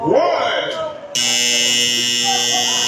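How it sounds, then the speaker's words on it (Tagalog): A loud, flat electronic basketball buzzer blares and holds steady at the end of the second quarter, after a short burst of crowd and commentator noise at a youth game. "And that's the buzzer."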